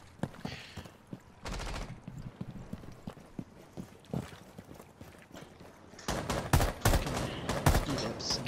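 Video game gunshots fired through a window ring out as scattered sharp cracks, then a denser, louder burst of rapid shots toward the end.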